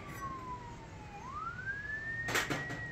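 A siren passes outside a workshop, faint and distant, its wailing tone sliding down and then rising again over low background noise, with a brief clatter near the end.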